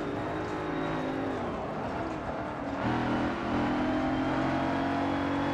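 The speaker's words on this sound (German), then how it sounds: "dank Quattro können wir auch ein bisschen auf dem Rasen fahren" Audi Quattro racing on grass in Forza Motorsport 7, a loud sustained engine drone that shifts up in pitch partway through as the car accelerates, with no voices.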